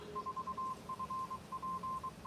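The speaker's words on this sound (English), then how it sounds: "that's the Palm Coast repeater beeping there in the background" The Palm Coast ham radio repeater pulses a steady electronic tone in short, evenly spaced beeps over faint background hiss, with no voices.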